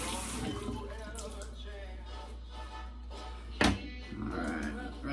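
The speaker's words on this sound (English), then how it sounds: "rinse out the lather bowl" A shaving lather bowl rinsed out under a running tap, a steady close wash of water with a sharp knock partway through; a voice talks faintly underneath.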